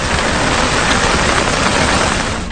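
Heavy rain falling in the Sri Lankan hill country, a dense, steady broadband hiss that stays loud and unbroken throughout with no gaps or voices.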